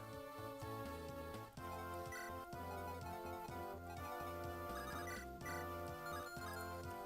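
A phone buzzes with a stream of ringtone and notification chimes that keep piling over dense game music from Fire Emblem: Binding Blade.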